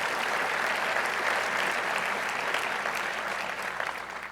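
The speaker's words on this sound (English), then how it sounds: "Let's give another round of applause for that." Sustained applause from an audience at the Louis I. Kahn Award event honoring Bjarke Ingels, a steady dense wash of clapping holding strong for about four seconds before easing slightly near the end.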